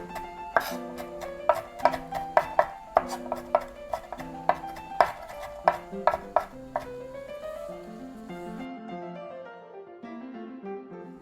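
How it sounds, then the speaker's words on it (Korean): A knife chops green chili peppers finely on a board in quick, sharp, regular strikes that slow and soften toward the end, while a soft melodic background plays under them. "이제 청고추도 썰어주세요 그래서 곱게 이렇게 다져주세요"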